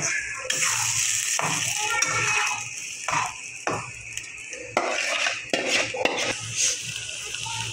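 Lentil dal batter poured into hot oil with turmeric for a potato dal, heard as a steady wash of sizzle with clinking pots and utensils and sharp scraping knocks through the pour.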